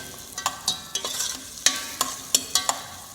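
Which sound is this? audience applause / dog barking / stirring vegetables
stirring vegetables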